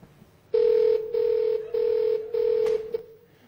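Telephone keypad dialing: four clear, loud electronic beeps in a steady rhythm, each about half a second long and separated by short gaps, heard alone with no voices over them.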